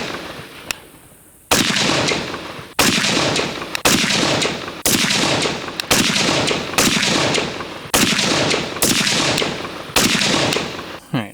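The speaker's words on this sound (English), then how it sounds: "Let's go ahead and get into shooting." An MK12 Mod D rifle fires .223 match ammunition at an outdoor range, with eight or nine sharp, loud single shots spaced about a second apart, each followed by a short echoing decay.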